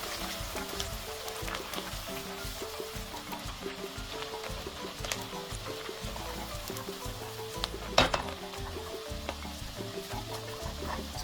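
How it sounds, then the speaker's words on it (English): Chopped onion sautés in preheated red oil mixed with vegetable oil for ekuru, a faint, continuous crackling sizzle with a quiet tonal background and a few small clicks. "Saute the onion in the preheated oil."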